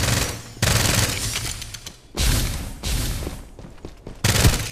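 Video game gunfire in Farlight 84: dense, loud bursts of rapid automatic fire in three long volleys separated by short pauses, close and harsh, with no talking.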